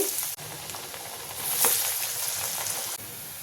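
Black chana vadas, chickpea fritters, deep-fry in hot oil over a medium flame, giving a continuous crackling sizzle at moderate level with a brief louder burst midway.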